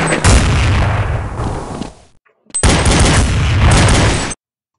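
Loud, close gunfire from Counter Strike 1.6 on the Dust 2 map, with dense sustained bursts of shots, a brief pause of near silence, and then another long volley that cuts off abruptly.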